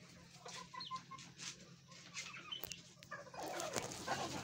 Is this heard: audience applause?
no